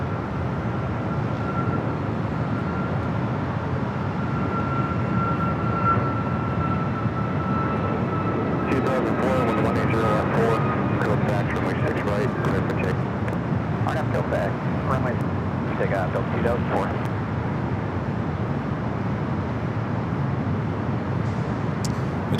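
An airliner departing LAX for Frankfurt, a broad steady jet roar at a distance that swells slightly midway, with a voice talking over it.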